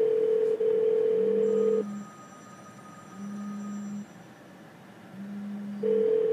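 A telephone rings in a repeating cadence of steady electronic tones, alternating higher and lower bursts about every second, moderately loud with no talking.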